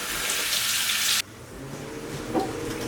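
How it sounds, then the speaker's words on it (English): Hot water gushes from a tap into a bowl in a home kitchen for a little over a second, then cuts off abruptly, leaving quiet room tone with a faint clink. "Get some hot water."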